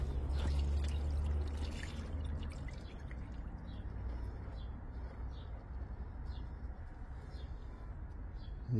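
Engine oil pours from the sump of a Renault 1.5 dCi into a drain pan, a steady, close liquid stream that is slightly louder at first, with faint dripping and occasional birdsong in the background.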